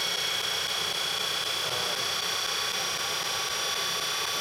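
A GE electric motor running smoothly at speed, giving a steady broadband whir and hiss with a thin high whine and no variation in level.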